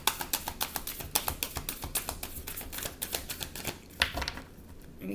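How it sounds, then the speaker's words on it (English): Tarot cards being shuffled by hand, giving a rapid, dense run of crisp clicks and flicks. The sound is steady and close, with no speech over it. "Let me shuffle."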